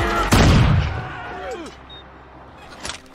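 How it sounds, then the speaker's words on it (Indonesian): A single loud gunshot fired into the air in an action film, a sharp blast that decays quickly, followed by quieter background sounds and a brief later thud. "ada seorang nenek datang yang langsung menembakkan senjatanya ke atas"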